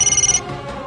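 A mobile phone ringtone trills in short rapid pulses for about half a second, loud and close, then cuts off leaving a room hum.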